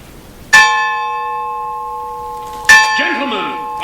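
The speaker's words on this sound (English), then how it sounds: "Ludlow, the bell!" Church bell tolls twice, each a loud, close, ringing clang that hangs and fades slowly, with a brief burst of indistinct noise after the second strike.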